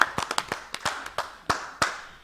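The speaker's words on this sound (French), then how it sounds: "Zébal Traoré, sous vos applaudissements." Sparse, fairly quiet hand claps from a few audience members at an education event welcome a guest, a dozen or so separate claps spaced irregularly, with no crowd roar.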